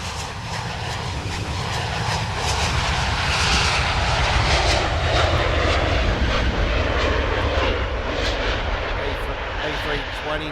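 An Airbus A320 airliner's engines roar steadily at close range throughout, a broad sustained rumble and whine in the Train Sim World 4 game, with faint talk underneath.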